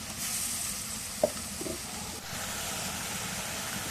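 Chili powder, turmeric and salt fry in oil in a pan for a fish curry, giving a steady, close sizzling hiss with a couple of faint spoon taps along the way.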